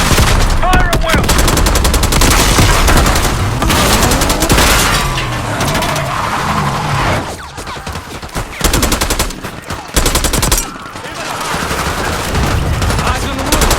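Heavy gunfire in the video game Call of Duty Black Ops 6, loud dense bursts of rapid shots and booming cracks almost throughout, with brief lulls near the end and a voice calling out in the mix.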